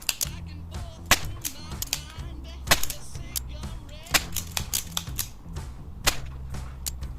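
An Ekol Viper 5.6x16 blank revolver fires double action, giving about eight sharp, loud shots at an uneven pace over a few seconds, each a crisp crack with brief ringing after it.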